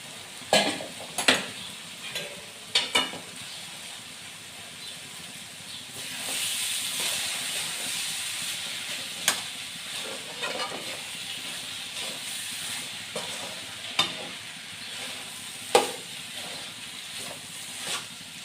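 Cooked basmati rice and mung beans are stirred into a hot pan, with a steady hiss of steam and sizzle and repeated sharp scraping clacks of a spoon against the pan, heard alone and up close.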